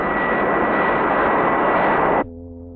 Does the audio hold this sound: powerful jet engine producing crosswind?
yes